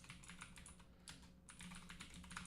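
Fingers type on a computer keyboard in a quick, uneven stream of light clicks with a brief pause midway, faint and close, with no voices.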